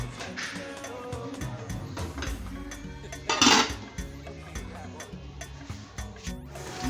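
A lid goes onto a pot of Nigerian beans and corn porridge with one bright metallic clink midway, among softer kitchen knocks and a low background hum.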